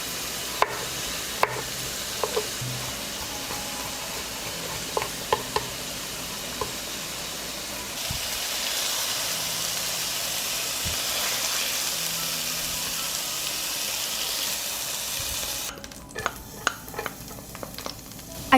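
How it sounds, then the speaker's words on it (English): Garlic sizzles steadily in a hot pan for a long stretch, with occasional clicks and scrapes of stirring, then the sizzle fades and tapping follows. "I fry the garlic for a short time,"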